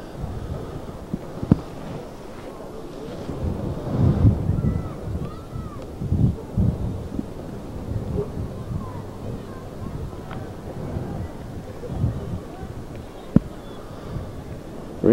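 Strong gusting wind buffets the microphone at a windy girls' Class D championship soccer final in Pickett's Corners, a steady low rumble with irregular swells throughout, under commentator talk and distant crowd noise.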